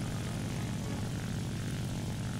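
A J7W1 propeller aircraft in War Thunder comes in to land, its engine a loud, steady, buzzing drone that stays close and even throughout with no voices.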